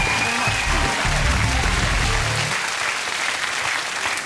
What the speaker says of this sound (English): You're on applause.